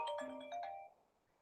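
A telephone rings on a second line with a short electronic ringtone, a bright melodic burst of stacked tones lasting about a second before trailing off into quiet room tone.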